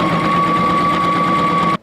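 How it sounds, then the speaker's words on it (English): A sewing machine stitches a lace ruffle onto a scrunchie, its steady, loud motor whir running unbroken for nearly two seconds before stopping abruptly, with no voices. "So let's sew a couple inches."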